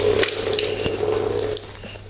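Tap water running steadily into a sink during wudu ablution, a close, continuous splashing stream with faint drips and light handling sounds.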